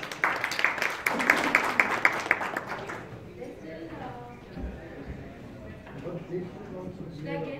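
An audience claps loudly at a stage event for a BenQ 4K projector launch. Dense applause fills the first few seconds, then fades into murmuring crowd chatter and nearby talking.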